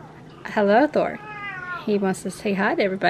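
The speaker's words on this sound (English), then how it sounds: "Excuse my cat." A house cat gives a couple of close, clear meows, one long and drawn out, mixed in with a person talking nearby.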